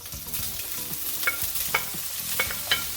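Cabbage and ham frying in a pan, a steady close sizzle with stirring scrapes and occasional sharper clicks of the utensil, no voices.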